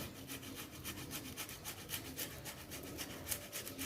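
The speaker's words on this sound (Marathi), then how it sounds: "आता आपल्याला ह्यामध्ये ही उकडलेली बटाटी आहे ना ती किसून घालायची आहे" Boiled potato grated by hand for sabudana bhaji, a steady run of soft rasping scrapes in a quick, even rhythm, close and moderately quiet with no talking.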